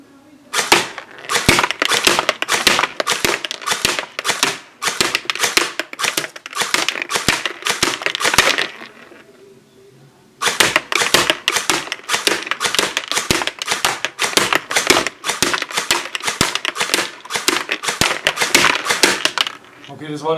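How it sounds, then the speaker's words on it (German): An airsoft M4 rifle fires semi-automatic with 0.1 g BBs, a rapid series of sharp, evenly spaced clicking shots in two long bursts separated by a short pause, loud and close, with far more than five shots. "Fünf Schuss Semi-Automatik."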